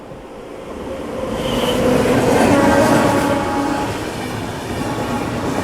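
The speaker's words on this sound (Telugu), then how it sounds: "సో అటు సైడ్ ట్రైన్ అయితే వచ్చేసింది" The SMVT Bengaluru–New Tinsukia superfast express passes close by near Annavaram, a loud steady roar of wheels and rolling stock that swells at mid-pass and then eases, with no voices over it.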